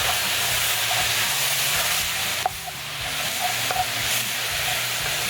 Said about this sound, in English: I'm going to brown up our meat a little bit